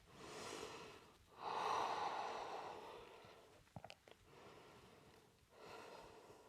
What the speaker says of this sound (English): And we'll take a few breaths here.